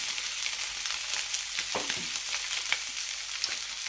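A sea bass fillet sizzles in a hot pan after being flipped, giving a loud, steady hiss of frying oil with small crackles and spits, close up and without any talking.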